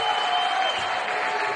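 Crowd applause at an indoor volleyball match in Agrigento's Palamoncato arena, a steady, fairly loud wash of clapping that carries evenly through the short moment without pause.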